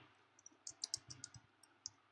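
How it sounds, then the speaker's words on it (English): Computer keyboard typing for LaTeX: irregular light key clicks in a quick, uneven rhythm, close and fairly soft, with no talking. "So let me start typing."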